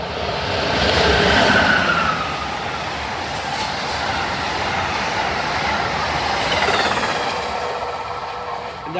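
An Amtrak Palmetto passenger train passes at Princeton Junction, a loud sustained roar of wheels and rail noise with a brief high squeal early on, holding steady throughout.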